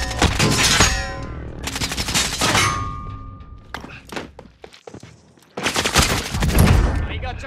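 Gunfire in the video game Warzone comes in bursts of sharp, loud shots, with pauses and scattered single cracks between the volleys and a final dense burst.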